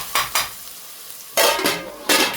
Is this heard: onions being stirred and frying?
yes